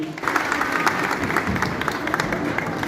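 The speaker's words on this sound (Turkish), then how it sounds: "Bay Nuri alkışlarla huzurlarınızda." A crowd applauds loudly to welcome a speaker onto the stage at a Turkish public gathering, dense continuous clapping with some crowd noise throughout.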